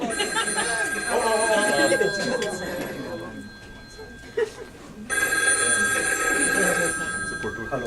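A telephone rings in repeated bursts with a pause between, while a person talks quietly nearby.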